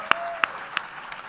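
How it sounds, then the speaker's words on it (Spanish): A few spaced, sharp hand claps from a small audience at a live Spanish podcast recording, close and brief, about three claps in quick succession. "Un aplauso más fuerte, por favor."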